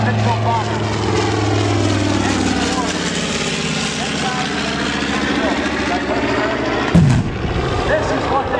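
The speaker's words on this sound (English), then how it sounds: "The award-winning Yankee Air Force B-25 Mitchell bomber." A World War II-era B-25 Mitchell bomber flies past at an airshow with a steady, loud propeller-engine roar that slowly shifts in pitch as it passes, and a sharp burst near the end.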